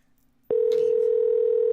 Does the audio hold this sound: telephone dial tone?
yes